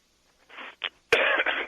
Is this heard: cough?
yes